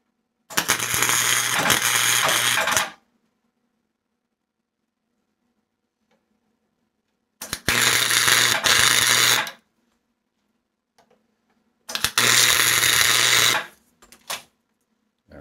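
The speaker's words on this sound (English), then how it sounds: "So I'm gonna run with a 2-inch space in here and just weld her all up." Three loud bursts of steady electric welding crackle and buzz as a steel hood spring tool for a 1951 Chevy is welded, each lasting about two seconds with silent gaps between, close up and with no talking.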